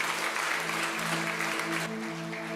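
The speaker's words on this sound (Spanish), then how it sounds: "Démosle fuerte ese aplauso al Señor" Congregation applauding during a church service, a dense continuous wash of clapping that thins slightly toward the end, with no talk over it.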